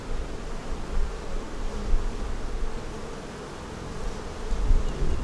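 Honey bees buzz around an open hive during an inspection, a dense, continuous close-up drone of many insects that swells and eases slightly throughout, with no talking.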